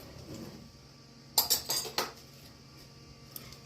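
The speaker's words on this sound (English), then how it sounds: "we're going to just go in here and dig out the seeds" A spoon scrapes and taps inside a halved spaghetti squash, digging out the seeds in a short burst of four or five quick clinking scrapes against a quiet background.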